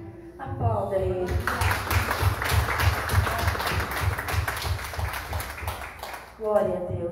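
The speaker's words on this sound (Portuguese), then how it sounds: "Aplauda ele." A church congregation applauds, a sustained wash of clapping that fills several seconds alongside sung and spoken voices.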